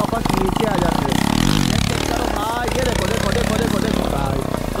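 A motorcycle engine revs loudly during a long wheelie, its pitch rising and falling in close, sustained bursts, while someone talks continuously over it.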